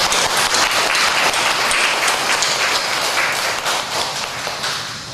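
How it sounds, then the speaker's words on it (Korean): Congregation applause during a Sunday worship service at a house church in Jinju, a dense, loud burst of clapping from a full room that holds steady and then thins slightly toward the end. "큰 박수 한번 드리겠습니다"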